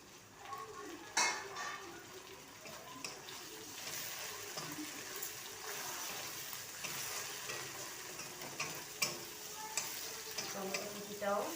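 Chopped tomato sizzling in butter in a pan, with a spoon or spatula stirring and scraping steadily and occasional clinks of utensil on metal, the frying hiss continuous throughout.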